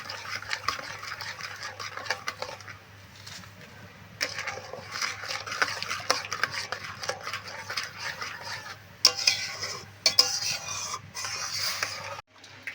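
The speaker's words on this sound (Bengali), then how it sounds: "চিনি দিয়ে আবার এইভাবে নাড়তে থাকবো বারবার করে" A spoon stirs mango pulp and sugar in a cooking pot in a home kitchen. The scraping and clinking come in irregular bursts at a faint, close level, against a low steady hum.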